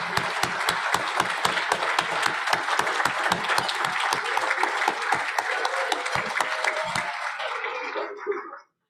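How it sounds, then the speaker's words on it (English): An audience at a weekly meeting applauds its guests with steady, sustained clapping and sharp individual claps standing out, filling the room for about eight seconds before stopping abruptly. "if our guests could please stand so we could recognize you with a round of applause"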